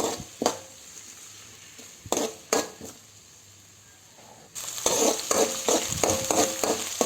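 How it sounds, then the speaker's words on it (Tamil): Shallots and garlic fry with fenugreek and cumin, sharp spoon knocks and clatters ringing out over a faint hiss before a louder sizzle bursts in, stirred with rapid scraping strokes. "நம்ம எடுத்து வச்சுருக்கிற சின்ன வெங்காயம், பூண்டை போட்டுக்கலாம்."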